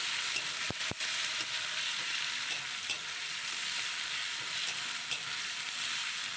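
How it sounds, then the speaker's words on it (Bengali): Cumin seeds and bay leaves tempering in hot oil, with prawns already fried, give a steady, close, dense sizzle throughout, broken by a couple of sharp pops near the start and faint stirring clicks. "এবার জিরে তেজপাতা ফোড়ন দিলাম"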